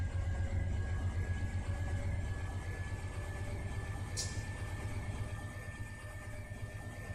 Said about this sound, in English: Wait for the engine to spin up.